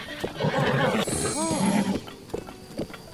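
A horse in The Legend of Zelda: Breath of the Wild, not yet fully bonded and acting unruly, gives a loud close whinny with rising and falling pitch over steady game ambience, then quieter shuffling.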